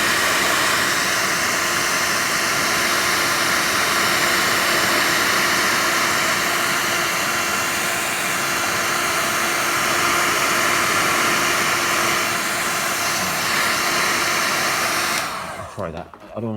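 A steady, loud whoosh of a hot air gun blowing on a cheap Nike Mag replica shoe, running continuously near the mic before cutting off abruptly at the end.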